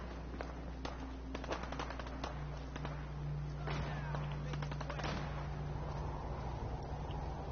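Gunfire in the video game Fallout 4, a rapid cluster of sharp shots and bursts over a low steady hum, fairly faint, with scattered pops continuing before the shooting fades into background ambience.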